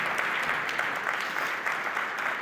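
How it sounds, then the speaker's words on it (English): An audience claps in a continuous round of applause at the official opening ceremony of a data centre in Riga, a thick, even wash of many hands at steady volume throughout. "Round of applause to the Delska team for bringing us to this very moment."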